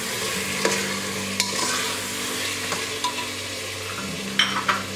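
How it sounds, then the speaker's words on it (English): Chopped tomatoes go into ginger garlic paste frying in a pan for a pressure-cooker chicken biryani, with a steady close sizzle and a few sharp stirring knocks and scrapes. "once the ginger garlic paste gets little fried up, you can add the tomatoes"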